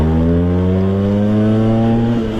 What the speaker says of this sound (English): I'm going to give it the throttle